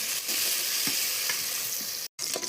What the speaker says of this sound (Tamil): இந்த வெங்காயம் நல்லா ஓரளவுக்கு பொன்னிறமாக அது வதங்கணும்.